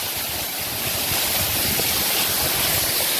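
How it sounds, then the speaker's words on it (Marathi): Water pours out from between the rocks at Navlai waterfall, a dense, steady rushing roar that stays close and loud throughout with no break. "हे दगडाच्या आतमधून पाणी येतं"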